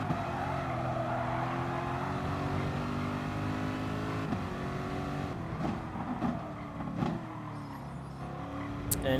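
Race car in GT Sport taking the last corner of an online race, engine droning steadily with shifting pitch, a brief tire slide and revs rising near the end; no talk.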